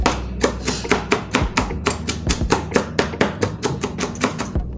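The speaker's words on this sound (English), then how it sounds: "chop it finely also like this okay just go like that and chop it finely" A knife chops water leaf vegetables finely on a board, giving a steady run of about twenty crisp, rhythmic taps, close and fairly loud, with no talking.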